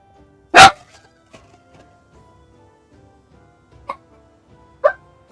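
Dogs bark in a strategy game: one sharp loud bark followed after a pause by two softer, shorter yips, with faint game sounds between them.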